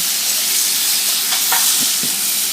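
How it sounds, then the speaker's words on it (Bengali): Spiced pea and tomato curry sautés in a pan, giving a loud, dense, steady sizzle with a couple of faint scraping stirs near the end. "আমি আর একটু কষিয়ে নিচ্ছি"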